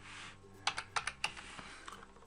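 Brief burst of typing on a computer keyboard during Photoshop work on a birthday eCard, about half a dozen crisp, close keystrokes clustered in the middle, then a few fainter taps fading out.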